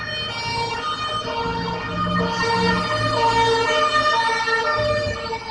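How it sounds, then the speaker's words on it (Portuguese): A passing ambulance siren wails loud and steady through the whole stretch, its rising and falling tone layered over road traffic rumble, with no one speaking. "Passando uma ambulância aqui."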